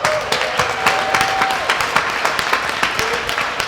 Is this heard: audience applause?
yes